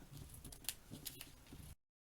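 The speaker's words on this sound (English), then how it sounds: "we're going to cut that out with our fabric scissors this time" Fabric scissors slice through a paper dress pattern for a Barbie doll, giving a close, steady series of crisp snipping and rustling cuts that stop abruptly near the end.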